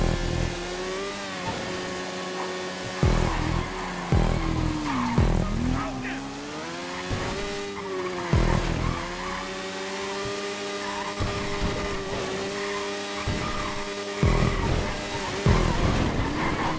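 Rain-slick tires skid and slide on a GTA 5 parkour race car, a wavering engine drone with scraping squeals recurring over nearly seventeen seconds while someone talks over it.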